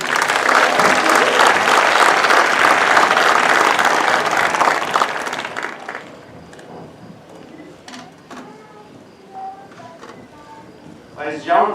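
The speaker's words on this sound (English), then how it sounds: "please give these graduates another round of applause" Loud applause from a high school commencement audience for the graduates, dense sustained clapping for about six seconds that fades into quieter room noise with scattered claps and shuffling.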